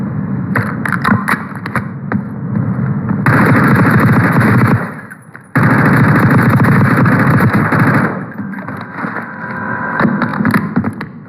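Sustained automatic fire from an XM4 assault rifle in Black Ops 6, loud and dense, running in long continuous bursts with a brief break midway and no talking.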